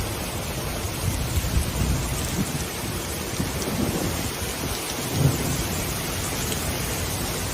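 A severe storm sweeps through Berlin with steady, dense rain hiss and a muffled low rumble of thunder, loudest near the middle.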